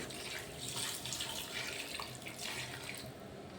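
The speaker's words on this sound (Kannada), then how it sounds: "ಕಪ್ಪೆ ಚಿಪ್ಪು ಬೇಯಿಸಿದ ನೀರನ್ನು ಸೋಸುವ ನಾವು. ಇದನ್ನು ಈ ಥರ ಸೋಸಬೇಕು" A steady stream of water from boiled black mussels pours and splashes through a strainer, close and continuous with no voices.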